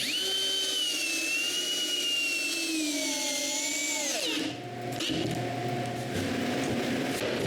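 A power drill drives 4-inch screws into wood, a loud high motor whine that holds, then bogs down in pitch as the screw seats, followed by short lower bursts, close and without talk.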